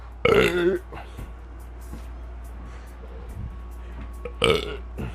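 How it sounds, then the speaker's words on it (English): A loud, drawn-out burp right at the start after drinking Red Bull, followed by a quieter stretch with faint background noise and a second short burp near the end. "Ooh, I got a burp, y'all."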